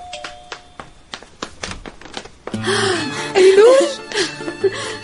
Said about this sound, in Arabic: وقت يلي الجرس رن